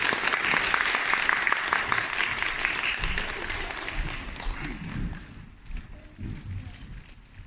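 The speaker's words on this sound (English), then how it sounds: "let's applause for Salim to the opening speech" Audience applause for the opening speech at a student piano recital, sustained clapping from a room of people that thins out after a few seconds as voices and shuffling take over.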